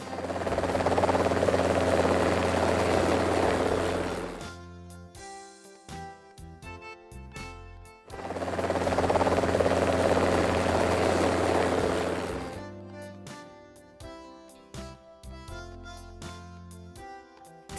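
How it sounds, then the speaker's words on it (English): An army helicopter roars loudly and steadily with a broad rotor wash for about four seconds, then gives way to tonal, rhythmic sounds; the loud rotor burst returns and fades again. "Army helicopter."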